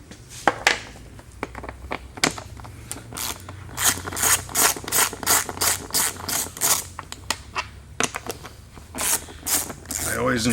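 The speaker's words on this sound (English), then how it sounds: "And now we'll need a number 10 socket again." Hand ratchet fitted with a number 10 socket turning seat bolts during a Yamaha Drive seat installation, giving quick repeated clicking strokes in bursts, close and fairly loud, with some faint talk in the background.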